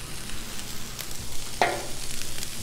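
Smoked sausage frying on a Blackstone flat-top griddle, a steady soft sizzle with a sharp clack at about 1.6 seconds as the sausage lands on the metal.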